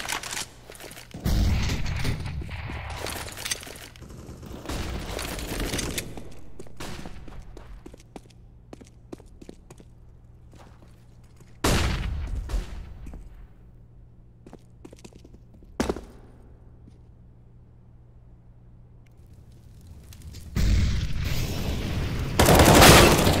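Gunfire in an esports shooter tournament match comes in several loud bursts of rapid automatic fire, separated by quieter stretches of footsteps and movement, with a final heavy volley at the end.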